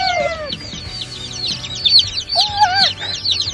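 A flock of chickens, including Brahmas, Black Jersey Giants and Barred Rocks, clucks and chirps nearby, a busy overlapping chorus of short calls and rising squawks, loud and close, with a low hum beneath.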